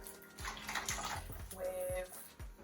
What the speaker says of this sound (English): you may begin to start pouring the water. And then you can just start filling up that bottle